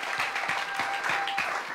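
A church congregation clapping and applauding together during a healing testimony service, steady rhythmic claps at moderate distance, without talk over them.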